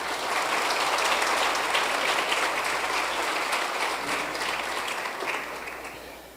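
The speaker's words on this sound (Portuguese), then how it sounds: "Você pode aplaudir Jesus nessa noite?" A church congregation claps steadily in sustained, dense applause during a worship service, holding at an even level, then fading slightly toward the end.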